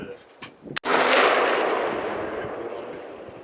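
A single loud, close gunshot from an Aero M16A4 rifle fired outdoors, a sharp crack followed by a long rolling echo that fades slowly.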